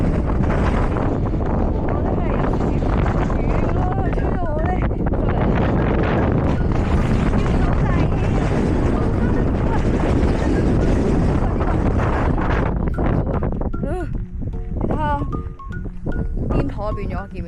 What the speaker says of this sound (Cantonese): 俾大家感受下究竟有幾咁大風。